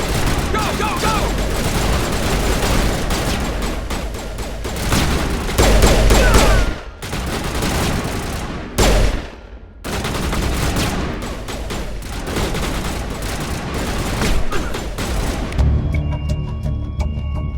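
Heavy gunfire erupts in a firefight in the video game Mass Effect, with dense overlapping rapid bursts filling the scene, a couple of brief lulls, then renewed shooting up close and loud.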